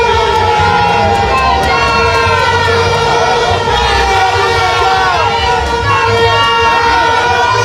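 A dense, loud crowd roars without pause at a street demonstration in Port Louis. Wavering siren-like tones ride on top of the crowd noise.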